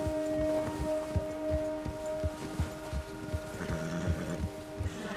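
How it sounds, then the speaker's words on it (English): In Red Dead Redemption 2, a horse frightened by a nearby bear stamps and shifts in a steady run of hoof thuds over a wind-blown outdoor backdrop, with a sustained musical tone underneath and no speech. "O urso assustou seu cavalo."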